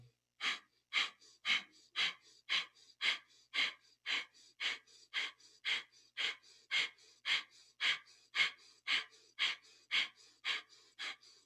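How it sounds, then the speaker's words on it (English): Breath of fire, rapid rhythmic nasal breathing in kundalini yoga, done while holding a Cobra or Sphinx pose: around twenty sharp, evenly spaced sniffing puffs close to the microphone, about two each second, with no speech. "we're going to do breath of fire for 2 minutes"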